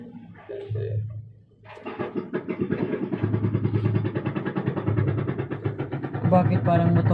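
A boat motor runs close by on the water in Hong Kong, starting up after a short lull into a loud, fast, rattling chug that holds steady while people talk over it.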